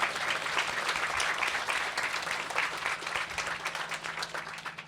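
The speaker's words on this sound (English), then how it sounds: "round of applause." A crowd at the Green Gathering festival gives a round of applause for a political speech, with steady, dense clapping heard at a moderate distance throughout.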